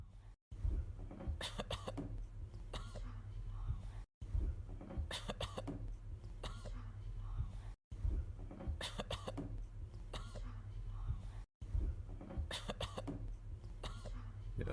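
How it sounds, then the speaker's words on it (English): Several sick people cough in a rhythmic, beat-like pattern over a steady low hum, with the sequence repeating in four loops separated by brief gaps. "It's like a beat because they're sick, but their coughing fits a beat."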